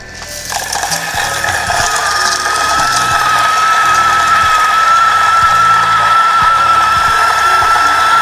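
An ECM Technika VI dual boiler espresso machine runs with a loud, steady pump drone and whine, overlaid by rattling, ratchet-like mechanical clicks close by throughout.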